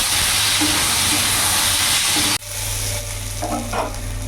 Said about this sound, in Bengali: এখন পটলের সাথে আলুগুলো একটু ভাজা ভাজা করে নেব।